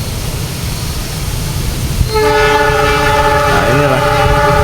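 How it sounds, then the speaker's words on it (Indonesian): A train crossing the double-decker Cirahong bridge rumbles steadily, then sounds a loud, sustained horn partway through, close and dominant over the running noise. "kereta api berjalan di atas jembatan Cirahong double decker"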